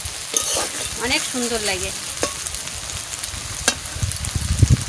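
Taro stolons (loti) fry with spices in a pan, giving a steady close sizzle and hiss throughout while a voice speaks briefly over the cooking.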